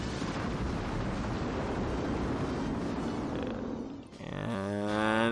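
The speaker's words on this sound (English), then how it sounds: "And then blow them up with fire." Fire spell explosion from the Final Fantasy 1 video game, a loud sustained roaring blast filling about four seconds before cutting off into a brief tonal game jingle.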